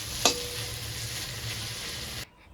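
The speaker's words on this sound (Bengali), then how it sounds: "তেল দিয়ে বেগুনটা ভালো করে ভেজে নিলাম" Eggplant frying in hot oil in a home kitchen, a continuous close sizzle with one sharp utensil clank near the start, then the sound cuts off abruptly; no one speaks.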